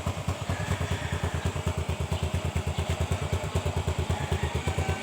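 A 14-year-old motorcycle engine idles close by with a steady, rapid low thump and a rattly mechanical clatter, even and unbroken throughout.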